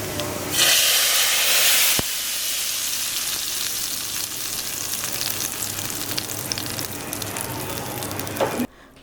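Steady, crackling sizzle of cumin seeds hitting hot oil for a tadka, loud broadband hiss that bursts up at first and then settles into a continuous fry before cutting off.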